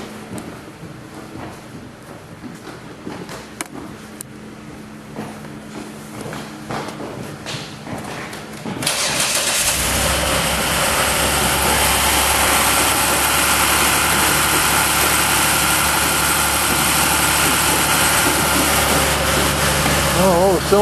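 A Dodge Nitro engine cranks and fires up after repair work, then settles into a loud, steady idle for the remaining twelve seconds, with quieter workshop noise beforehand.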